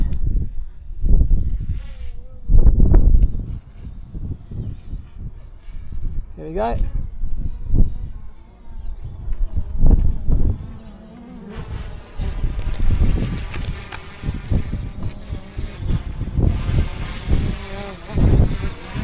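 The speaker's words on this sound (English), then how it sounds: "Now we'll bring the drone back." A small fishing drone buzzes with a rising and falling whine on a windy shore while a person speaks briefly and wind blows across the microphone.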